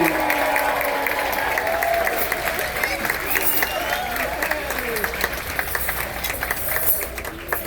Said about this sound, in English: they would like to hear by a measure of applause how much have you enjoyed the main dining room food